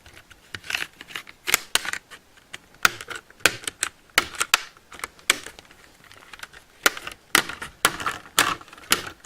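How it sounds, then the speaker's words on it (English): Plastic retaining clips on the back cover of a Samsung Galaxy Tab 3 10.1 tablet snap loose as it is pried off, giving a close, irregular run of sharp clicks and ticks, more than a dozen over several seconds, with no talking. "It should start clicking like that."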